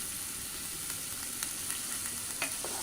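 Bash korol frying with sea fish in a pan: a continuous close sizzle with occasional scraping stirs and soft clinks, no voices.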